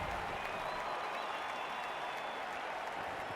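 A stadium crowd cheers at the kickoff of a Blood Bowl video game match, a steady, dense roar of applause and crowd noise held at even level throughout.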